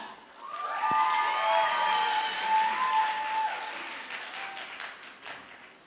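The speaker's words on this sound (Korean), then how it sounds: "큰 박수 부탁드립니다." A Korean concert audience at a first-love contest applauds as the final contestant is welcomed on stage, a broad even wash of clapping and light cheering from a distance, with sustained musical tones underneath.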